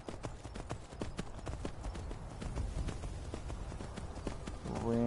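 Horse hooves clip-clopping steadily in Skyrim near Whiterun and Dragon's Reach, a saddled horse walking with many sharp, evenly spaced hoof strikes over a low ambient bed, a brief tonal game sound near the end.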